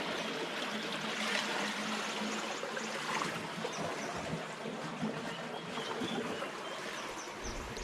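Steady rushing and trickling of water flowing through an irrigation channel, continuous and moderately loud with no talking.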